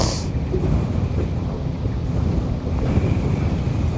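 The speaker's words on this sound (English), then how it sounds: "This wind is powerful today." Strong wind buffets the microphone on a boat out on a lake, a loud, continuous low rumble with faint water wash underneath and no speech.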